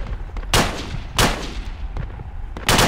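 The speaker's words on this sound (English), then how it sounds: "They shot me." Gunfire in the military shooter game Project Reality: three loud, sharp shots spaced roughly a second apart, each a broadband crack with a short decaying tail over low background rumble.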